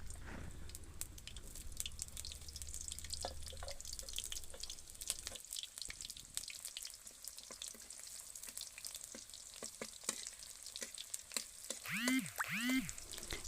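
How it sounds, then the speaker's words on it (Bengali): Chopped onions fry in beef fat in a pan with a soft, steady sizzle and small crackles, faint and close. A few stirring clinks and scrapes come near the end. "তো ফার্স্টে আমরা এর মধ্যে পেঁয়াজ কুচিগুলো দিয়ে দিচ্ছি।"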